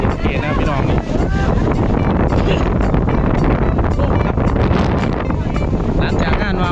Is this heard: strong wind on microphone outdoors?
yes